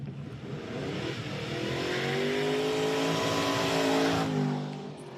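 A 7-litre Mustang race car at a historic sprint start line revs hard, its engine note climbing steadily and loudly before easing off at the end, with no voices.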